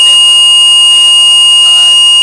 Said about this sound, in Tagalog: Nag-trigger yung buzzer natin